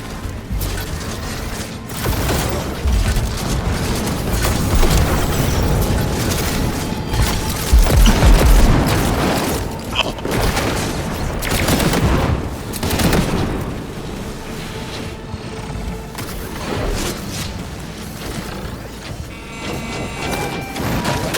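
Cyberpunk 2077 gameplay with continuous rapid gunfire and explosions, dense clattering bursts and booms running loud and steady throughout.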